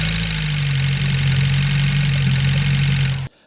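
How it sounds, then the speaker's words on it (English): A race car engine runs loud and close with a steady, rough, droning roar, then cuts off abruptly near the end. "the engine is quite noisy"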